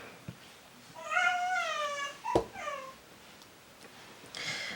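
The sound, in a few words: cat meowing in the background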